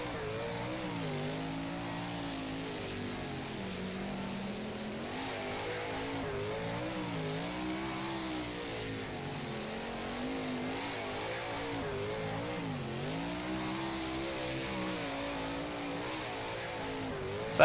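A sprint car engine roars steadily on a dirt track in the rFactor racing game, holding a high, continuous drone that rises and dips as the throttle changes, touching the rev limiter, loud and alone with no talk.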